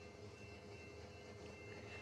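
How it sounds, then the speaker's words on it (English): A Union Pacific freight train rolls past in the rain as a faint, steady rumble with a continuous wheel-on-rail drone and soft clatter, heard from some distance with no voices. "we got a Union Pacific train coming down the line"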